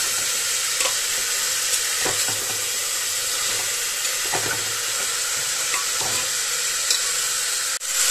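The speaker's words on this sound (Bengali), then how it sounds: "এগুলো আমি একটু ভালো করে নেড়ে নিই," Papaya and potato pieces frying in a pan give a steady loud sizzle, with a spoon scraping and stirring through them in intermittent strokes, close up and free of talk.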